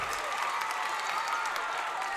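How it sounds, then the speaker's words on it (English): Crowd noise rises in a gym at a high school boys basketball game, Harlingen South vs Harlingen Cardinals, after a made free throw: a steady, dense wash of cheering and applause from a packed crowd, with no single voice standing out. "Crowd starting to make some noise. First free throw's good."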